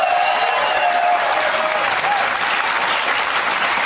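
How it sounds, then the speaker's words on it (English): Studio audience applause on a morning TV news show, a steady, dense wash of clapping that stays loud and even throughout, with no pauses and a faint tonal whistle early on. "round of applause for Joe Concha"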